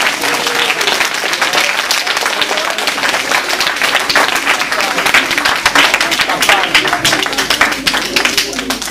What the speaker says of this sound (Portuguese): vamos dar uma salva de palmas também